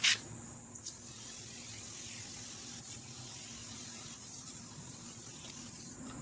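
Short hissing bursts of Armor All Extreme Shield aerosol ceramic tire coating spray, repeated every second or two over a steady background hiss.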